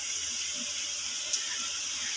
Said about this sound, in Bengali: বাটিটা ধুয়ে জল দিয়ে দেবো।